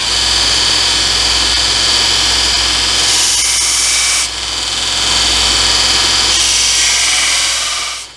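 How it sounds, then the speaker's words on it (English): An angle grinder grinds a bevel into steel for weld penetration, a loud continuous high-pitched whine and hiss held close up, with the pitch shifting slightly as pressure changes and a brief dip before the grinding resumes. "we're going to grind a bevel right there"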